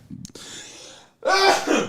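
A single sharp sneeze bursts out after a brief quiet pause, loud and close, following a softer breathy sound.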